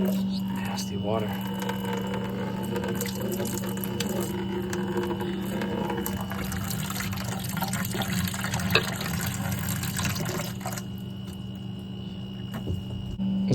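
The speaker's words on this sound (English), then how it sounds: "This is just how you burp these manifolds, purge these manifolds." Dirty water rushes and splashes steadily while a radiant floor heating manifold is purged of air, a continuous hiss and gurgle over a low hum, with someone talking over it.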